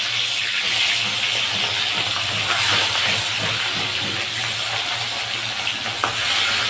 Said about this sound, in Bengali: চলো আগে মাছটা বসিয়ে দিই ভাজাতে।